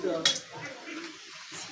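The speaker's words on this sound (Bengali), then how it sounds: "এই যে এখন একটু নাড়াচাড়া দিবে আমার আম্মু।" Bunda batter stirred in a pan, soft scraping and clinks of a utensil against the pan over a faint sizzle, with a brief louder knock near the start.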